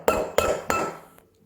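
A milk jug of frothed milk is knocked on a kitchen counter three times beside a Sunbeam EM7000 espresso machine, giving sharp, close metallic-glassy clinks with short ringing decays at an even rhythm.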